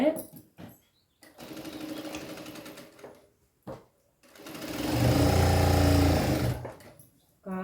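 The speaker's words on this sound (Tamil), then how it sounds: "இது 1/4 இன்ச்சு தையல் போட்டுனே வாங்க." Sewing machine stitching the lining into a blouse at a quarter-inch seam, running in loud, steady bursts, the longest near the end, with pauses and brief quiet handling sounds between runs.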